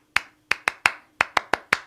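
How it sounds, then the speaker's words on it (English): Crisp, close hand claps beat out a syncopated football-stadium crowd rhythm, eight dry claps in uneven groupings with clean silence between them, performed by one person rather than a crowd. "it became a clapping rhythm played by crowds in football stadiums around the world"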